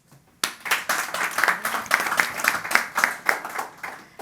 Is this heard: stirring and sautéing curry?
no